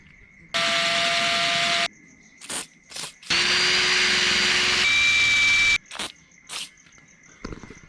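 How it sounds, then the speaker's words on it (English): A power drill whirs loudly in two long bursts drilling out a bolt during a twin-turbo LS1 swap into a Nissan R33, its motor pitch shifting under load, with short clanks and brief buzzes between runs. "So I'm gonna have to drill that out."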